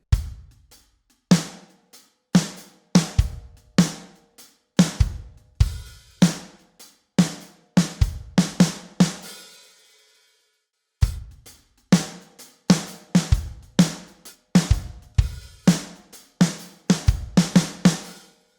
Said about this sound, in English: Here's the next 4 bars and they have a fill at the end.